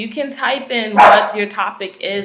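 A dog barks once loudly close by in the middle while a person keeps talking throughout.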